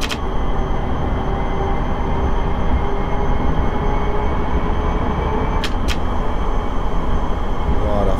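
A tram rolls through Berlin at night in the LOTUS Berlin driving game, with a constant loud rumble and rail noise throughout and two brief sharp clicks near the end; no one speaks.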